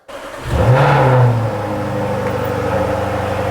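Jaguar F-Type SVR engine rising into a loud rev at setting off on a road test, after its engine replacement, then settling into a steady drone for the rest of the stretch.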